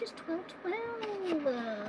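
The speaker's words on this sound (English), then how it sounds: "Nope, that's my cat." A pet cat meows in drawn-out, rising and falling cries, fairly close and moderately loud, while a person talks over it indoors.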